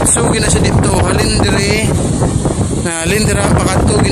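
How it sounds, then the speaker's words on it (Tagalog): Strong morning wind buffeting the microphone outdoors in loud, continuous rumbling gusts, with a person talking underneath. "Pasensya na kamo sa video kay kusog gid ang hangin."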